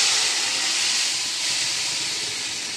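Okra that has been lightly fried sizzles and hisses loudly and steadily in the pan as turmeric, chilli powder and dried-mango water are poured in, a dense continuous spitting with no voices.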